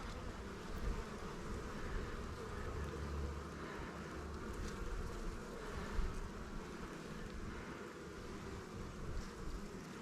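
Honey bees swarm over an open hive during an inspection, a dense, steady buzzing hum close up that fills the whole stretch without a break.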